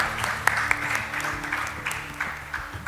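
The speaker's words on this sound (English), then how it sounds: "Let's have a huge round of applause for Nanak ji's contribution" Audience applause at the Kaivalyadham centenary event for a commemorative 100-rupee coin, honoring a donor's contribution: moderate crowd clapping over a low hum, steady for a few seconds with a couple of sharper claps.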